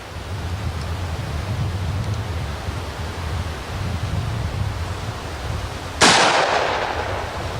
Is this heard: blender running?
no